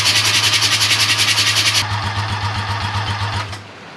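A rotary aircraft engine cranks without firing, with a rapid, even whirring starter rhythm and a high whine that changes partway through, then winds down and stops near the end, close and loud.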